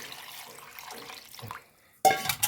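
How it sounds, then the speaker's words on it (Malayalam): Water pours onto cut sweet potatoes in a cooking pot, breaking in abruptly as a close, steady splash after quiet handling noises. "ഇനി ഞാൻ ഇതിലേക്ക് കുറച്ച് വെള്ളം ഒഴിച്ച് കൊടുക്കുന്നുണ്ട്"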